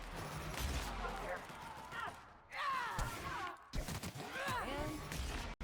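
Rapid bursts of gunfire in the video game The Outer Worlds crackle amid chaotic sound effects, with voices talking over the shooting.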